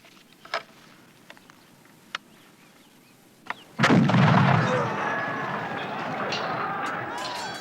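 A musket goes off with a sudden loud blast at an English Civil War battle reenactment, preceded by a few faint clicks and thumps, followed by a roaring crowd and background speech.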